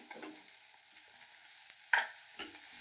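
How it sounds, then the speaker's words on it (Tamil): Soft stirring and scraping of ginger and garlic sautéing in a pan over a faint, low sizzle of frying, with an occasional louder clink of a utensil. "இதை நல்லா வதக்கிக்கலாம் இதை கொஞ்சம் வதக்கினாலே போதும்"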